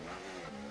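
A Formula 1 car in a racing game locks up under hard braking, a brief, dense tyre screech over engine roar lasting under a second.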